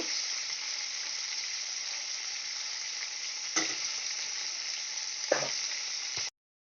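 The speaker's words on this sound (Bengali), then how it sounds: "এগুলো হালকা হালকা ভেজে নেব" Four pieces of fish fry lightly in hot oil with a steady, bright sizzling hiss. Two brief clattering scrapes from turning the pieces interrupt it before the sound cuts off abruptly.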